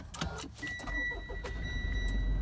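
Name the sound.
Mitsubishi Pajero Sport Dakar engine starting with push button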